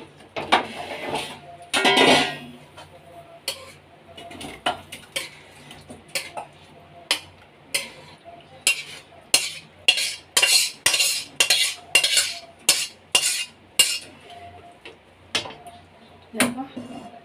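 Chilli chicken with onions and capsicum is tipped out of a pan, a run of sharp metallic scrapes and clinks from a utensil against the pan, quick and irregular, growing busier toward the end, with brief voice nearby.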